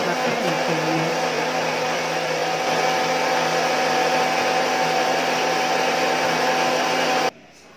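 An electric blender grinds a hair-treatment mixture in a loud, steady whir that holds for about seven seconds, then cuts off abruptly, heard close with no speech.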